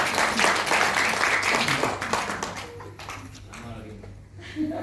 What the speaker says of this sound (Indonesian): kasih tepuk tangan untuk operator kita